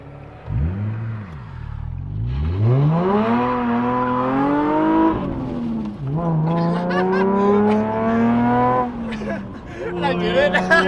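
A Subaru BRZ-type sports car revs hard through rising and falling engine pitches during a burnout, loud and close, with squealing tires building toward the end.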